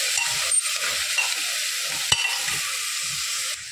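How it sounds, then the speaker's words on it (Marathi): Pig trotters frying in a pan while being stirred, a steady loud hiss of sizzling with soft scraping strokes and one sharp clack partway through, ending abruptly; no one speaks. "जे आपण हे डुके म्हणजे पाय घेतलेले आहेत ते ह्यामध्ये टाकत आहे। असं मिक्स करून घ्यायचं आहे।"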